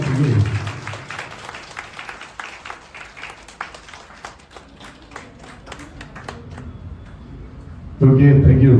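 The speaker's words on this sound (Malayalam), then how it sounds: "നല്ല കയ്യടി കൊടുക്കാം." Clapping from an audience at a Malayalam WhatsApp group gathering where a guest is honoured with a ponnada shawl, a steady patter of many hands for about eight seconds before talk resumes loudly at the end.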